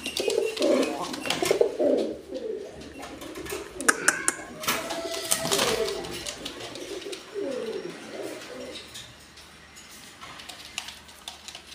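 Fancy pigeons for sale, including a yellow Shirazi pair, coo in soft repeated bursts close by, with someone talking over much of the calling.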